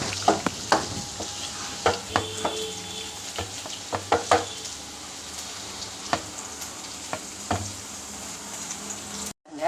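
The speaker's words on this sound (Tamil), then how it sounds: "சாம்பார் நல்லா கொதிக்குது." Sambar made with cooked, mashed lentils bubbling vigorously in a pot, giving a steady sizzling, popping simmer with scattered sharp bursts, close and fairly quiet, with no talking.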